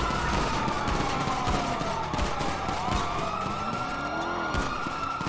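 Gunfire and police sirens from a GTA V street shootout, with rapid shots crackling over wailing, sweeping sirens and car noise, loud and continuous throughout with no talking.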